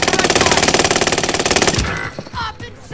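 A fast, even burst of automatic gunfire from a video game rattles loudly for nearly two seconds, then gives way to quieter scattered noise.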